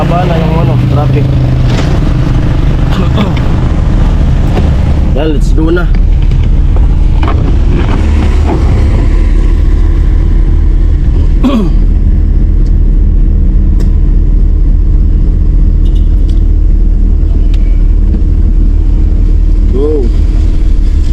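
Road traffic with cars passing in a long jam, heard as a steady engine rumble and wind buffeting close to the microphone, with brief swells as vehicles go by and occasional talk from people nearby.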